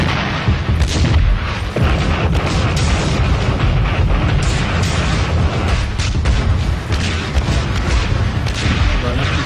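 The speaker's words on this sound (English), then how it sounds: "The artillery started falling on Hushnia." Artillery barrage on a battlefield during a tank battle on the Golan Heights, a dense, continuous roar of booms and blasts at high volume with no pauses.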